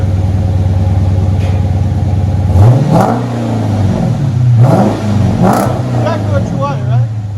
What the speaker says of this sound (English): There it is. Dodge Charger RT Hemi.